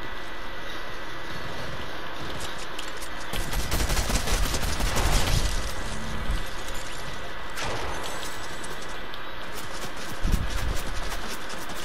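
Gunfire from a Fortnite match: dense bursts of shots crackle across the clip, heaviest around the middle and again near the end, with no talk over it.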